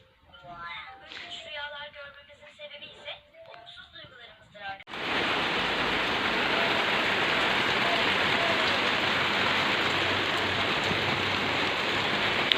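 A short stretch of speech gives way to steady, dense rain hissing loudly and evenly, close and continuous to the end.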